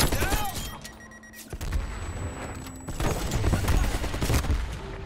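Rapid bursts of automatic rifle fire in Call of Duty Cold War, an AK-47 rattling in loud volleys with sharp cracks and booms from a close firefight.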